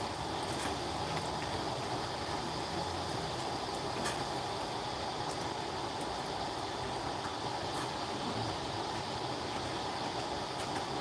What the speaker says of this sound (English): that's the sound of my tanks filling